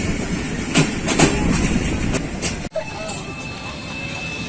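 The Allama Iqbal Express, a Pakistan Railways passenger train on the Lahore to Sialkot line, pulls into Narang station with a loud, close rumble and rhythmic wheel clatter. A sharp brief thud and a high squeal follow.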